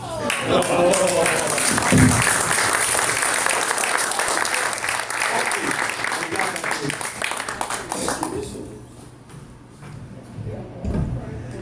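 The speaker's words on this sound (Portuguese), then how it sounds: "Se agora batam palmas, porque faz bem ao coração do artista" An audience applauds after a cultural lecture on Câmara Cascudo, sustained dense clapping for about eight seconds that then thins out and fades, with some voices and rustling as it ends.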